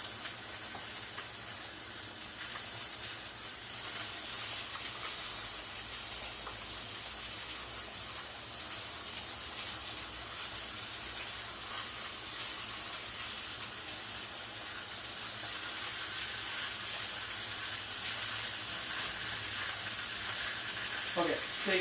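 New York strip steaks stood upright on their edges sear in a hot pan, giving a loud, steady, unbroken sizzle that keeps up from start to finish.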